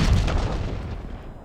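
A frag grenade detonates in Call of Duty Black Ops Cold War, a single loud close boom with a deep rumble that decays over about a second.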